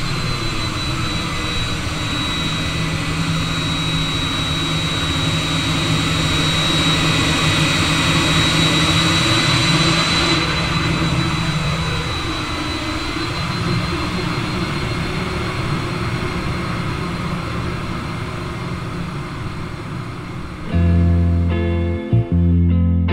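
Jet engines of a Boeing 787-9 airliner spool up under thrust, a loud, steady roar and whine heard from the cabin that swells slightly and then holds, with a brief clunk near the end.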